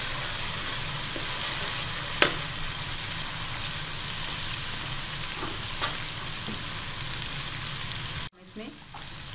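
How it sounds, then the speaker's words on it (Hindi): Ginger sizzles steadily in hot oil in a pan, with a dense, even crackle for several seconds and a few faint utensil ticks, then the sound drops away abruptly near the end. "थोड़ा सा अदरक को पकाएंगे।"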